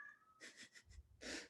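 A pet cat lets out a breathy, strained yowl in a few short pulses, followed by a louder wheezy cry near the end. It is close but quiet overall.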